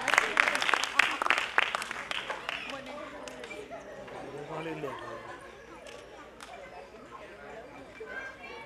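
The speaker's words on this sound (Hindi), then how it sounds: "होनहार बच्चों के, होनहार पेरेंट्स के लिए एक बार जोरदार तालियां हो जाए" Applause from the audience at a dance academy's annual function, honouring the children and their parents. A burst of clapping fades into a quieter wash, with voices talking throughout.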